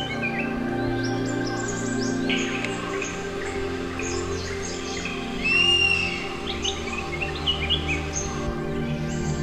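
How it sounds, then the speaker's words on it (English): Forest birds calling in the Nilgiri jungle at morning, several species overlapping with whistles, chirps and trills of varied pitch over a steady droning background, moderately distant. "Birds are active in search of their breakfast."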